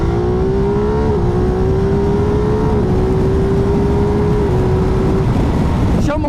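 A Ducati V2 motorcycle engine of about 160 horsepower runs hard, giving a loud, continuous drone whose pitch holds nearly level with small shifts. It dominates throughout and ends with a brief sharp change at the close.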